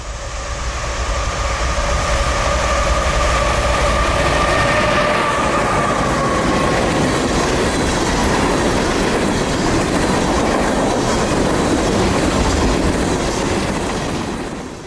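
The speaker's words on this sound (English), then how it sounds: "this BNSF GE rounding the corner would mean good news for us" BNSF freight train hauled by a GE locomotive rounds a bend and passes close by, a loud sustained roar with wheel clatter and a fading high tone early on.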